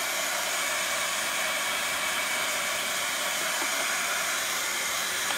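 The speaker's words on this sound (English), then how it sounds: "I have this little craft dryer," A small handheld craft heat dryer runs continuously over thickly applied paint on a mixed media canvas, a steady loud broadband whoosh and hiss from start to end.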